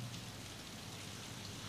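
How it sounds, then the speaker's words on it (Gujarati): Steady rain falls, a faint, even patter that fills the whole short stretch without a break. "વરસાદ હવે સરળે ચાલુ થયો"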